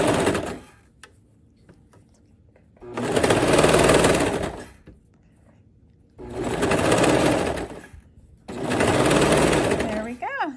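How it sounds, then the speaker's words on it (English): A serger trimming off the basting stitch on a winter flutter-sleeve dress runs in three loud, steady bursts of whirring stitching, each a couple of seconds long, separated by near-quiet pauses. "here we are at the serger, and we're just cutting off that basting stitch"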